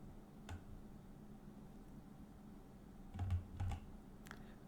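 Clicks from a computer keyboard come in short bursts as a search is typed, close and soft against a quiet background, with a denser run of keystrokes toward the end.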